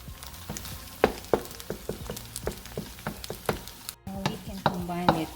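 Pad Thai cooks in a pan with a low sizzle beneath a steady run of sharp scraping and stirring clicks from a utensil, close and moderately loud, with a brief cut of near silence partway through.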